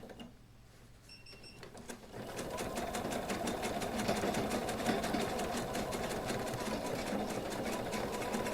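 A sewing machine stitching a shoulder bag starts up after a quiet moment, then runs as a fast, even mechanical chatter that stays close and steady to the end.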